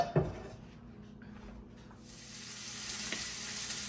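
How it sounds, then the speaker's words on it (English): Smoked bacon and chorizo start frying in a pan: a brief clatter, then a quiet sizzle that swells into a steady, louder crackle. "we have to fry up some chorizo and some bacon"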